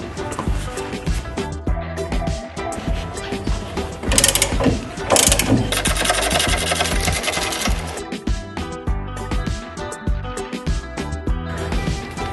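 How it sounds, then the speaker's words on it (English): A ratchet wrench fitted with an 18 mm socket works bolts loose on a bracket, making bursts of rapid, loud metallic clicking close by, with some stronger grinding mechanical bursts midway. "After like using the 18 mm socket, we can just easily open"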